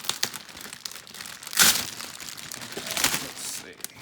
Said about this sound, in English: But let's get it out of this plastic wrap.